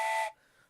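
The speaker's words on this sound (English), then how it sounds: "Joe, why do you have a train whistle?" A train whistle gives one short, loud steady blast with a bright tonal pitch, cutting off abruptly and leaving a faint quiet tail.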